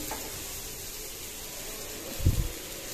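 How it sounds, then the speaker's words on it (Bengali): Small pieces of sweet pumpkin frying in a pan, a faint steady sizzle throughout with a brief louder scrape or stir near the end, no voices. "তো এই তো এখানে আমার মিষ্টি কুমড়োগুলো ভাজি প্রায় হয়ে গিয়েছে"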